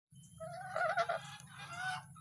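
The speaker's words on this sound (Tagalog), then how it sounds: "Andyan yung mga gansa pinakawalan ko kasi." Geese just let out of their pen honk in short, nasal, wavering calls close by, over a low steady hum.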